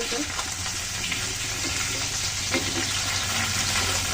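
Tengra fish fries in plenty of oil in a dish with cauliflower, potato and tomato, giving a dense, constant crackling sizzle from start to end with a low hum beneath it.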